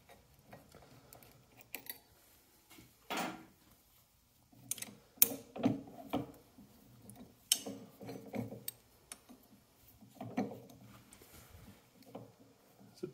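A crankshaft pulley is worked off the nose of an engine crankshaft, giving sporadic quiet metallic clicks, taps and scrapes separated by brief pauses.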